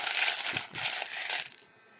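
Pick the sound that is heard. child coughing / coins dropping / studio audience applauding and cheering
coins dropping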